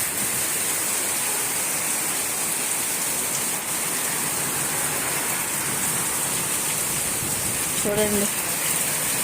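Steady rain falls on garden plants near a guava tree in the afternoon, a dense, constant hiss with no breaks, while someone speaks briefly near the end.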